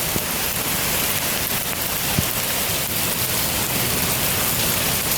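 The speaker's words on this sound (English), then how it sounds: "Now that is a hailstorm." Pea- to marble-size hail pours down during a Texas hailstorm, a dense, steady roar of impacts with a few sharper nearby hits standing out from the wash.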